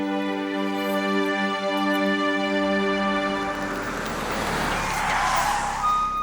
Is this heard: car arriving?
yes